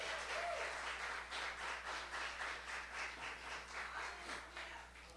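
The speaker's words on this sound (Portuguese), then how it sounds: "Quantos podem aplaudir ao Senhor nessa noite?" A church congregation applauds during an evening service. The clapping is moderately quiet but steady, with a slightly pulsing texture that eases off near the end of about five seconds.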